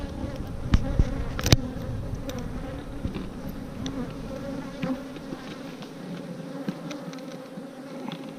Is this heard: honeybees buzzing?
yes